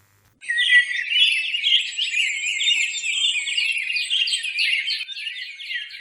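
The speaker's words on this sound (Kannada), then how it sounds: "ಅದೇ ಈ ಪಕ್ಷಿಯ ಹೆಸರು, ಕಾಮಳ್ಳಿ." A kamalli bird calls alone in a rapid, continuous run of high chirping and warbling notes, clear and close against silence, ending somewhat softer.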